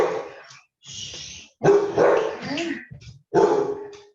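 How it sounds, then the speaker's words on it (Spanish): A dog barks at the neighbours in loud, close bursts, several sharp barks and yips in quick clusters with brief gaps between them. "Mi perro no entiende el concepto de vecino."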